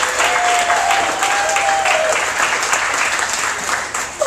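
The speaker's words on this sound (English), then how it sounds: "Please welcome, big round of applause for Ophira Eisenberg." A comedy show audience welcomes a comedian with loud, continuous applause, a thick wash of clapping that holds steady for several seconds with a faint voice briefly audible.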